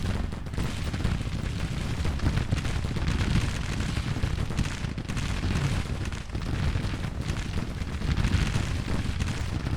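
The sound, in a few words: musket and artillery fire in Grand Tactician Civil War video game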